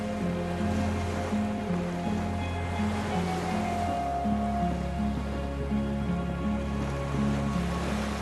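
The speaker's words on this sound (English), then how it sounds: "The skiff is swaying on the waves by the dock." Waves lapping around a skiff moored by a dock in the video game Disco Elysium, a soft continuous wash of water beneath a sustained low musical drone, steady and unbroken with no voices.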